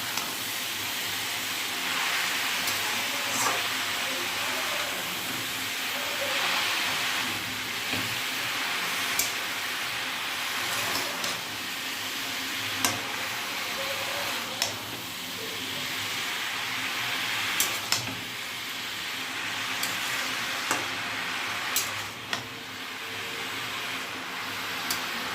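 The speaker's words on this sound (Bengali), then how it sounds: "সর্ষে শুকনো লঙ্কা ফোড়ন দিয়েছি, দিয়ে নুন হলুদ দিয়ে দিলাম" Mustard seeds and dried red chilies tempering in hot oil with salt and turmeric give a steady, close sizzling hiss, with small pops and crackles scattered throughout and no one speaking.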